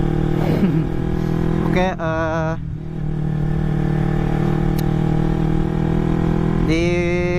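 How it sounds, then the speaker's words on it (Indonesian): A Kawasaki Ninja 250 carbureted motorcycle fitted with an Akrapovic exhaust idles close by with a steady, loud engine hum and a couple of brief revs, while someone speaks briefly. "di video kali ini gua mau pure sound knalpot Akrapopik"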